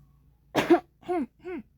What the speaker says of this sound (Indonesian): Iya batuk lagi deh